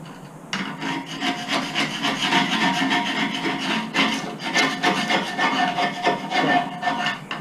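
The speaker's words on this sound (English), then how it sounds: "Now when we sand this down, some of this will come off" Steady abrasive rubbing of sandpaper over an old painted surface during a major restoration, continuous and close with rhythmic back-and-forth strokes after a brief quiet start.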